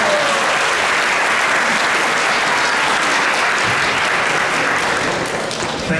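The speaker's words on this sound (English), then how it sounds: "But can you give once again a big round of applause for Mahabharata Prabhu?" Sustained, dense applause fills the room as an audience at a lecture at ISKCON Toronto claps for the speaker, loud and steady for about six seconds.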